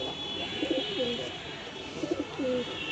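Pigeons coo nearby in two short bursts of soft, rolling, throaty calls over a quiet background.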